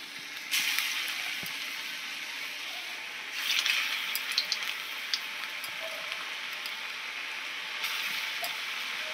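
Food frying in very hot oil, with a steady broadband sizzle throughout and louder bursts of crackling as pieces go in, close and fairly loud, no talking.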